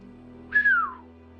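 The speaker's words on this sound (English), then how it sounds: "I just whistled right into the microphone" One short whistle blown right into a microphone, close and loud, gliding downward in pitch and ending abruptly against a faint low hum.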